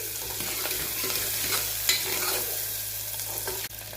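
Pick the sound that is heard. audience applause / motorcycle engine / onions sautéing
onions sautéing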